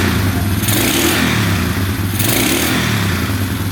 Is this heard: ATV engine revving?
yes